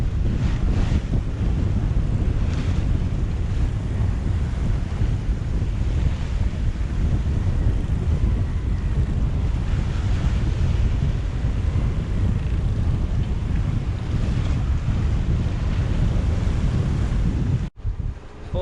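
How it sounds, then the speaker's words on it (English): Waves wash over the deck of a sailing yacht off Martinique in the Caribbean, a loud continuous rush of surf and water mixed with heavy wind buffeting the microphone, cutting out briefly near the end. "We've got waves coming over the deck."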